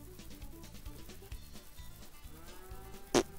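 A cow moos once, short and sharp, near the end of the Agrar Simulator 2013 farm game, over a soft looping background of game music.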